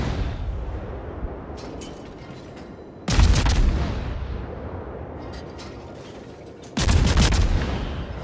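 Russian naval guns on a Khabarovsk destroyer in World of Warships fire two heavy salvos a few seconds apart, each a loud booming blast with a rumbling tail.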